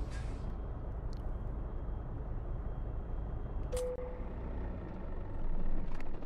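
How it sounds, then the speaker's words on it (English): A Freightliner FLD truck engine runs in American Truck Simulator while hauling cement doubles, a low, steady diesel drone that swells slightly near the end, with a brief hiss and a couple of faint clicks. "the motor seems to be running better today"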